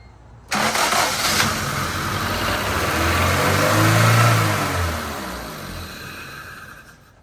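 A Honda CRX Si, fresh from a timing belt and water pump job and jump-started on a low battery, cranks and fires up, then settles into a loud, steady high idle that swells and eases off, close by with no talking.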